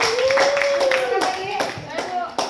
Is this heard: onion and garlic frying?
no